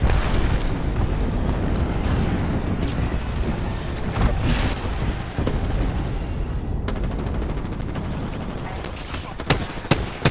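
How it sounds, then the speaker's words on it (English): An airstrike in Apex Legends brings a dense, continuous rumble of booming explosions mixed with sharp cracks of gunfire, loud and sustained throughout. "Calling the airstrike"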